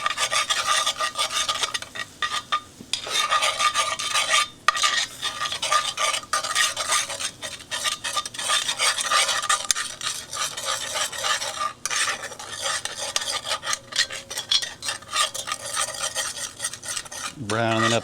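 Flour roux stirred in a pan for smoked kielbasa mac and cheese, a steady scraping, rasping stir with utensil rubbing against the pan, continuous and close for the whole stretch.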